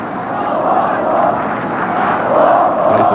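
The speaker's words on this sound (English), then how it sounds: "The home crowd getting involved again after a quiet spell" Home crowd at a Turkey vs. Wales football match, a 1998 World Cup qualifier, a steady broad roar of many voices filling the stadium, swelling slightly toward the end with no break.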